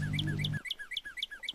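Bird calls in a modded Minecraft game ring out as a rhythmic series of bright, repeated chirps, loud and close, with a low hum underneath for the first part before the calls continue alone.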